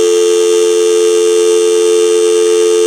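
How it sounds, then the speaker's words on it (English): A steady, unbroken dial tone hums loudly through the speakerphone of a Uniden TRU8885-3HS cordless phone handset for the whole stretch, with no other sounds. "Making sure the dial tone on it works."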